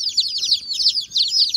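Young chicks of mixed breeds, including barred Plymouth Rock and golden sex link, cheep in rapid high-pitched bursts. The chirps overlap constantly and sound close and lively.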